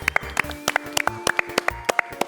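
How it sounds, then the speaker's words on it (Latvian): A small group claps for Ludvig, a guest on a bluffing game show. Sharp, uneven claps come close by in a brief scattered burst. "Aplausus Ludvigam."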